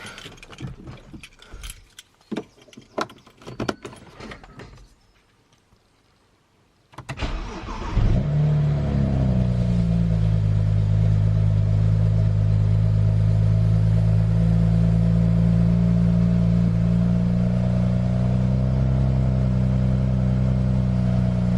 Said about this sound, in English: So we're just gonna start the car up.